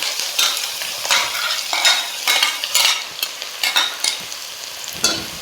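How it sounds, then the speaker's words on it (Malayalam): Chopped onions are stirred into hot oil in a pan for a Kerala egg masala, sizzling with repeated scraping strokes of a spoon, close and steady with no talk. "ഇനി നമുക്കതിലേക്ക് നമ്മൾ അരിഞ്ഞു വെച്ചിട്ടുള്ള സവാള ചേർത്ത് കൊടുക്കാം."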